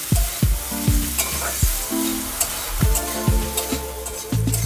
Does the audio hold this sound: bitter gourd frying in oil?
yes